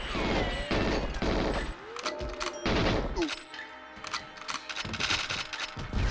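Bursts of rapid gunfire from GoldenEye 64, loud and dense, with several volleys of automatic shots breaking off and resuming, plus sharp metallic clanks between them.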